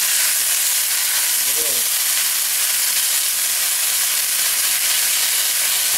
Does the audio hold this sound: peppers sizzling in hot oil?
yes